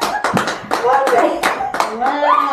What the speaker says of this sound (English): they've given you a big round of applause